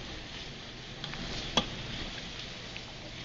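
Meat, still partly frozen, browns in a pan for a tater tot casserole with a quiet, steady sizzle, broken by a few faint utensil taps and one sharper click.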